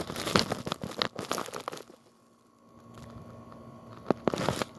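Holly branches crunch and crinkle close by as they are cut back during pruning, in a cluster of crisp snaps and rustles, then a quieter stretch, then a few more sharp clips.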